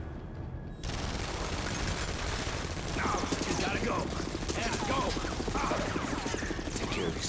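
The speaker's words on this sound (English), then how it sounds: "Open fire!" Sustained gunfire in the X-Men Origins: Wolverine game at the Weapon X facility, a dense continuous rattle of shots with booming low rumble that kicks in after a quiet first second and runs to the end.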